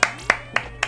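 Four sharp hand claps in a quick, even rhythm, close and loud, with a low steady hum underneath.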